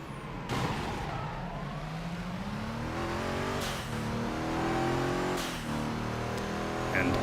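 Engine revving of race cars in the video game Midnight Club 3, racing against a 1969 Dodge Charger, with steady, rising engine tones, whooshing passes and a siren-like wail, loud throughout.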